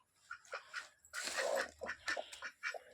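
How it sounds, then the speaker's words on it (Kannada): A domestic duck quacks in a quick series of about eight nasal calls, close and fairly loud, with short gaps between them and no talking. "ಆಮೇಲೆ ನಮ್ಮ ಬಾತುಕೋಳಿ"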